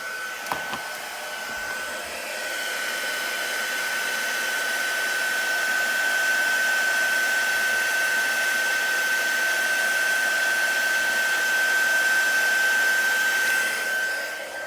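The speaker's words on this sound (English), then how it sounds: "So I'm just going to heat up my gun" A heat gun blows continuously for about fourteen seconds while melting embossing stick powder, giving a loud, even whooshing roar with a steady high whine, close and alone.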